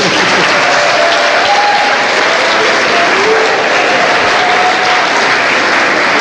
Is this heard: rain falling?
no